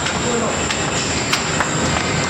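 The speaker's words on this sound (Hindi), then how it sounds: "चलो मेट्रो आ गई है।" Delhi Metro train pulling into a station, a loud steady rumble with faint wheel clatter and squeal, while people talk over the noise.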